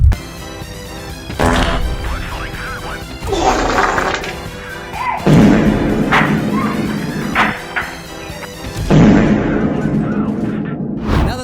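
Repeated gunfire from the Argonaut's gun in a video game, a series of loud crashing shots and booms in bursts with mechanical clanks and effects between them, up close and dense throughout.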